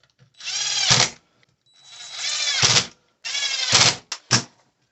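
Power driver runs four pan head screws into a Traxxas Wide-Maxx metal CVD axle assembly, each a whirring burst of about a second with a sharp stop, the last one short, close and loud with no talk.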